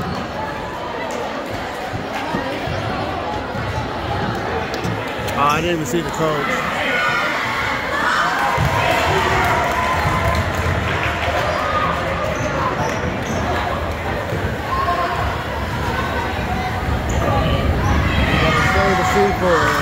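Crowd noise fills a junior high basketball game between Greenfield Jr High and South Valley Jr High, with steady loud chatter, children shouting and repeated ball bounces on the court, while a nearby voice talks over it.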